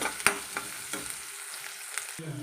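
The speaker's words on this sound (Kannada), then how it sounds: "ಇವಾಗ ಈರುಳ್ಳಿ ಹಾಕಿದ್ಮೇಲೆ ನೋಡ್ರಿ ಇದನ್ನು ಸ್ವಲ್ಪ ನಾವು ಫ್ರೈ ಮಾಡ್ಕೊಳ್ಳೋಣ" Chopped onion frying in a pan for a banana-flower stir-fry, a soft crackling sizzle with a few sharp clicks of stirring, fading toward the end.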